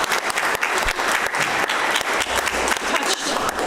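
A folk-night audience gives warm, steady applause for a singer, many hands clapping together loud and close for the whole stretch.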